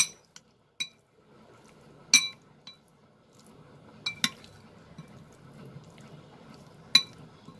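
Prawns being mixed with masala spices, likely with a spoon in a metal or glass bowl: several sharp clinks and taps spaced irregularly, over a soft, wet stirring and squelching texture, close and fairly quiet.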